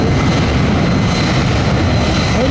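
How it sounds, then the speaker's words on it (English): Engines of a C-5 airlifter, fitted with new General Electric F-138 jets, winding up at an airshow: a steady, dense broadband roar, loud and close, with no talk. "It includes fitting new General Electric F-138, which are winding up now."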